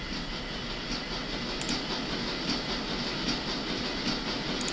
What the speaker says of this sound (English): Let us board the train.